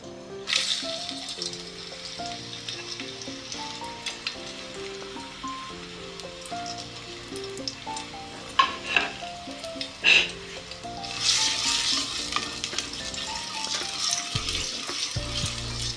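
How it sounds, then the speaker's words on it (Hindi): A medium-sized chopped onion going into hot oil for kofta curry, a soft frying hiss with light clatter, a couple of sharp knocks midway, then a louder burst of sizzling toward the end. "अभी हमारा ये ऑयल गर्म हो जाए तो हम इसमें ये प्याज डालेंगे।"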